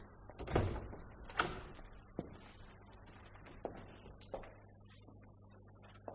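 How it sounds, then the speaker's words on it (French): An indoor door is handled and opened, heard as a sharp latch knock, a scraping slide, and several lighter taps and clicks spread across a quiet room, with no talking. "Ouvrez vous-même la porte."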